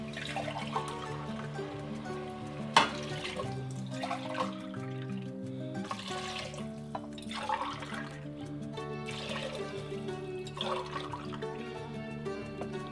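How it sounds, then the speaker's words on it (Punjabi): Water is poured glass by glass into a pot of soaked rice and fried vegetables for vegetable pulao, giving a few gushing pours under steady background music. "ਇਹ 4 ਗਲਾਸ ਪਾਣੀ ਪਾ ਦਿੱਤੇ।"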